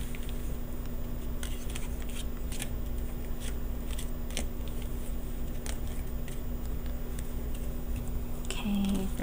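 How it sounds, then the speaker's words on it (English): Lenormand cards being shuffled by hand, soft papery flicks and riffles scattered in quick irregular bursts, quiet and close over faint background hiss, without speech. "Shuffle here and there."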